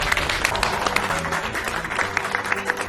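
Guests at an evening ceremony clap together, a brief, moderately loud burst of applause from a gathered crowd, steady throughout.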